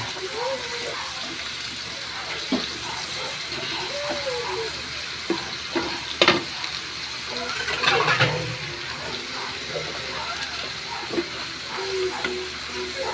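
Water hisses and sizzles as it hits a hot pan, with a burst of gushing and bubbling midway amid scattered clatter and faint voices.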